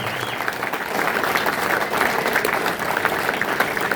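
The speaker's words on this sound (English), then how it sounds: "How about a round of applause for Mr." Steady, dense applause from an audience at the Austintown Generational Enrichment Corp event, filling the whole stretch at an even, fairly loud level with some crowd murmur beneath.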